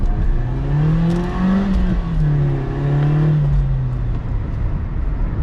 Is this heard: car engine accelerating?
yes